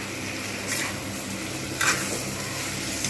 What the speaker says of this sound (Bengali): একটু বেশ কিছুক্ষণ ধরে দু তিন মিনিট ধরে খুব ভালোভাবে আমি এটাকে ভেজে নেব